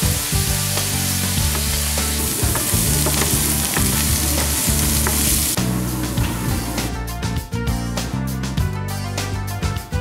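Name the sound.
canned pineapple pieces caramelizing with brown sugar in pan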